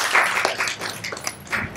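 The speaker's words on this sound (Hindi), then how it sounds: "सही जवाब जोरदार तालियां हो जाए" Loud clapping from a small group of women at a health awareness session on infant feeding, a brief burst of dense, close hand claps with no voices over it.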